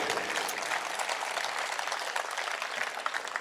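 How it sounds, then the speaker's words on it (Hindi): Audience applause at a Hindi patriotic poetry recital, a short burst of dense, fairly soft clapping that stays even throughout without any voices over it. "तो एक बार जोर से तालियां उठाइएगा"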